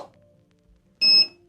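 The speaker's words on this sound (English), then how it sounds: "this will give you an audible beep if it recycles or it's warning you that it needs to be dumped" A Godox P2400 strobe pack gives one short, bright electronic beep, clear and alone after a faint fading tone in a quiet room.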